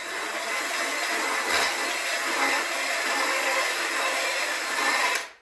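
Rough scraping and grinding as a burr is cleaned off the edge of a metal air filter assembly in a home workshop, a continuous close hiss-like rasp lasting about five seconds before stopping abruptly.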